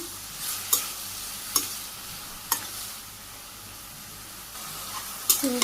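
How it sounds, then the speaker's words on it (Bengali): Spices with turmeric, chili powder and a green chili being stirred in a pan give a soft, steady sizzle, with a few sharp scrapes of a spoon against the metal. "তো আমি আবার একটু কষিয়ে নিই।"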